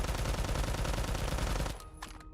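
Rapid automatic bursts from an MP40 submachine gun in the shooter game Phantom Forces, loud and continuous for nearly two seconds before cutting off, leaving quieter scattered game sounds.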